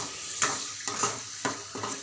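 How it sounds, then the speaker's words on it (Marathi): A coconut, onion and tomato paste fries in oil with a soft, low sizzle, punctuated by four or five brisk scrapes of a spoon against the pan. "मी इथे ती पेस्ट तेलामध्ये टाकलेली आहे"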